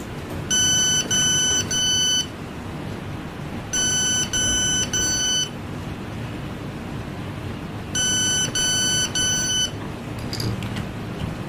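Buzzer on an Arduino RFID electric door lock beeping in three bursts of rapid high-pitched beeps, with pauses between, over steady background hiss; no talking.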